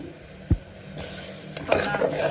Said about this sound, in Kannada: ಇವಾಗ ನಮ್ಮ main ingredient soya, very high in protein, very good. ಅದನ್ನು ಸೋಪ್ ಮಾಡಿ ಇಟ್ಕೊಂಡಿದ್ವಿ, ಅದನ್ನು ಹಾಕೋತಾ ಇದ್ದೀನಿ.